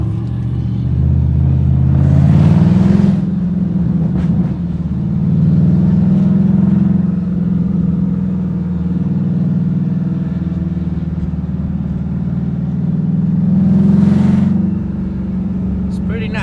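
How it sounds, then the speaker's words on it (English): A stick-shift car climbs through mountain roads, its engine holding a steady low drone with a few swells of revving, while a voice is sometimes heard over the cabin rumble. "Kind of hard driving through the mountains, stick shift and everything"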